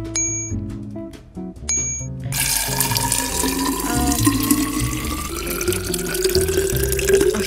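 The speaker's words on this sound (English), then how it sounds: "literally every time the water sounds, they just make me feel thirsty" Water pours in a blindfold pet-care video game, a steady rushing fill that rises in pitch after a few short musical chimes at the start.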